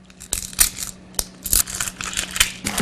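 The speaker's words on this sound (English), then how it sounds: "And you cut the onion in half" Knife cutting an onion in half on a board, a series of short crisp cuts and crunches spaced irregularly, close up with no voices.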